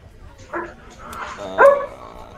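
A dog makes two short, sharp sneezes close by in a quiet room during a tabletop role-playing game session.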